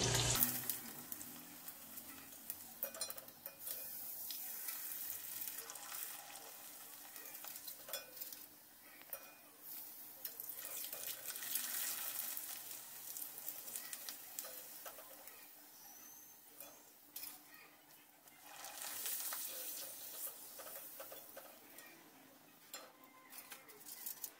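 Dried cluster bean vathal frying in hot oil: a steady, soft, continuous sizzle and crackle with faint stirring and clinks of a pan, close and quiet with no talk.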